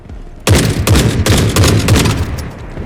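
Dense rapid gunfire fills a firefight in the video game The Forever Winter, with overlapping shots and heavy thumps sustained after a sudden loud onset.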